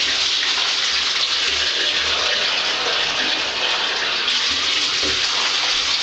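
Tap water, hot, pours steadily into a basin while a screen-printing screen is being degreased, a constant broadband rush with no talk and no breaks.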